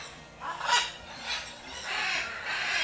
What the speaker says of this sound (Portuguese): Que é um periquito. De cabeça preta. Mas esse é de cabeça verde.